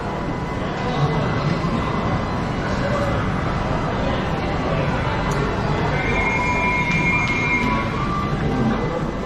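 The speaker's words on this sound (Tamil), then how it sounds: "இப்போ ஆலப்புழா எக்ஸ்பிரஸ் வந்து கிளம்பிடுச்சு" The Alappuzha Express rumbles steadily past at close range as it departs a platform, a dense continuous roar of wheels on rails with faint metallic squeals and distant crowd noise.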